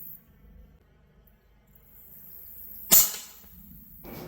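An AEA Challenger Pro .25 caliber unregulated air rifle fires an Apollo slug with a single sharp, loud crack that decays quickly, after a quiet lead-in.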